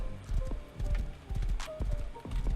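Horse hooves clip-clop in the Rust video game. There is a steady walking rhythm of hoof strikes over game ambience, with a brief whinny-like tone, at moderate volume and without speech.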